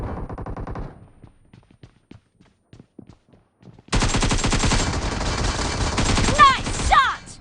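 Rapid gunfire from a shotgun squad fight in PUBG Mobile played on an iPad 8th gen, a short burst at the start, then sparse clicks before a loud, dense barrage of shots with sharp ricochet-like chirps near the end.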